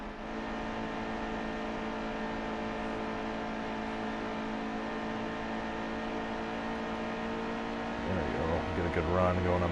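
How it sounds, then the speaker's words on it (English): Race car engines in the NASCAR Heat 2 video game drone steadily at high pitch throughout, with a louder revving surge near the end; a voice talks over them. "Can't make new engine sounds in 15 years."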